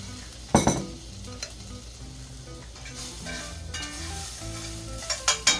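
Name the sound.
bread toasting in a hot frying pan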